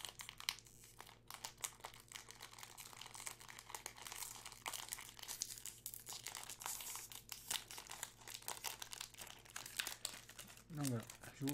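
A crinkly plastic wrapper around a vanilla wafer is torn open by hand, with steady close crackling and crumpling throughout and someone talking over it.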